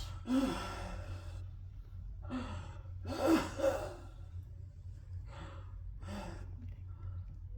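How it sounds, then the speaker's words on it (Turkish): A man working with a drill breathes heavily in repeated gasping bursts, some sharper and some sighing, close up with short pauses between them. "Nefesi daralıyor ama çalışmaya devam ediyor."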